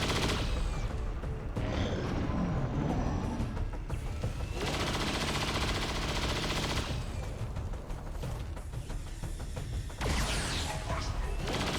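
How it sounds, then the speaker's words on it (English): Rapid bursts of automatic gunfire from the withering barrage ability in the tactical video game XCOM 2: War of the Chosen, loud volleys in several sustained stretches with mechanical clatter between them. "That withering barrage is pretty cool."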